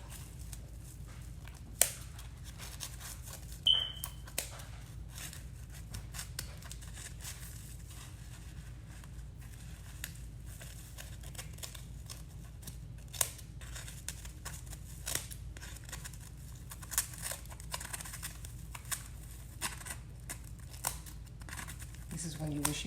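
Scissors snipping through tulle while making pom poms, with a steady run of small crisp cuts and rustling fabric, close and fairly quiet.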